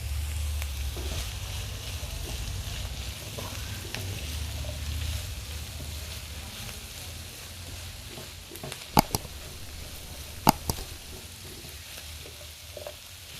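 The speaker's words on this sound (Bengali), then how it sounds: "এখন দিয়ে দিচ্ছি মাংস। মিশিয়ে নেব।" Beef stir-fried over high heat in a pan, a soft, steady sizzle with low rumbling and scattered stirring scrapes, plus a few sharp metallic clanks of a spatula toward the end, no talking.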